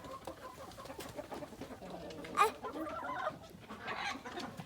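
Chickens cluck softly at a distance over steady outdoor background noise, with one brief sharper call near the middle.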